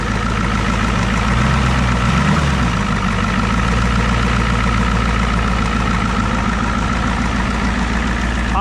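A 1988 Ford rollback truck engine idles steadily and loudly, with a low rumble and a faint rapid ticking from the exhaust running throughout, with no talk over it.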